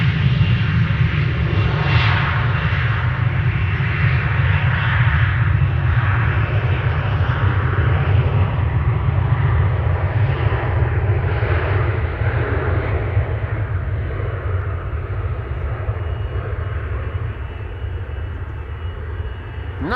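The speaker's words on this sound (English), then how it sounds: "am I hearing A330 engines? You're goddamn right." Airbus A330 engines at Amsterdam Schiphol Airport, a loud, sustained low roar with broad rushing noise, steady for most of the stretch and easing slightly toward the end, no voices over it.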